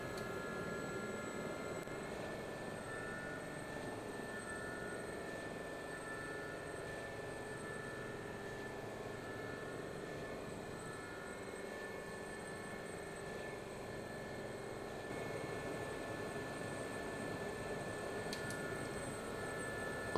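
An SA342 Gazelle helicopter in the DCS flight simulator flies steadily, its rotor and turbine drone a faint, continuous hum with a high whine.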